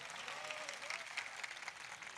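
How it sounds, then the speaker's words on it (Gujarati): Faint, steady applause from an audience at a religious gathering on a padyatra pilgrimage, a dense patter of many hands sustained throughout without a break. "એમને એક વખત જોરદાર તાળીઓથી વધાર્યો"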